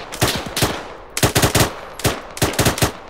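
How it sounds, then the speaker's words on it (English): Bursts of automatic gunfire in a military video game, several rapid volleys of close, loud shots separated by short pauses, with no talking over them. "Is that friendly shooting us?"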